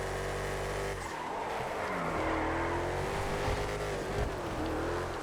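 Hot Knife road car racing in GTA FiveM, a steady loud engine drone with rising and falling revs and tire squeal through the corners, continuous and close.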